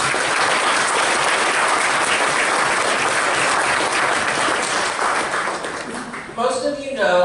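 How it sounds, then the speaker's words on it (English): Sustained audience applause fills a patient workshop hall, dense and loud for several seconds before fading as a voice begins speaking at the end. "Have a big round of applause for this time."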